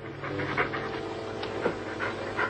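Heavy panting breaths close at hand, a steady rhythmic huffing repeated through the clip, loud and near, with no talk over it.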